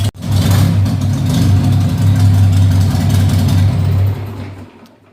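A Harley-Davidson Sportster motorcycle engine idles with a low, steady throbbing rumble, loud and close, then cuts off and fades near the end.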